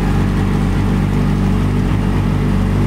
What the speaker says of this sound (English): I accidentally bumped the throttle.